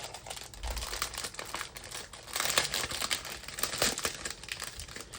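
A large diamond painting parcel is opened, with close, continuous crinkling and tearing of its packaging in irregular bursts.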